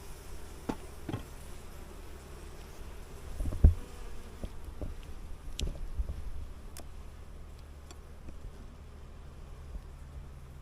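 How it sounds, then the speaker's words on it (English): Honey bees hum from a strong, tightly packed hive colony during an inspection. A low, continuous buzz runs throughout, with individual bees zipping close past now and then and a few soft knocks and clicks. "This has been the strongest hive colony since the beginning."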